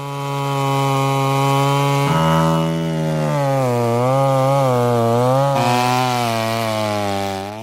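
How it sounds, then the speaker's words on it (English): A chainsaw roars close by, its engine pitch dropping and wavering as its tip cuts down at an angle into tree roots, then rising again. "the chainsaw is used as its tip cuts down at an angle into the roots"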